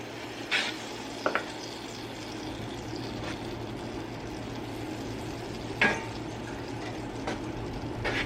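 Butter sizzles steadily in a preheated cast iron skillet, a constant hiss with a few brief utensil clinks and scrapes over it, close and moderately loud, with no talking.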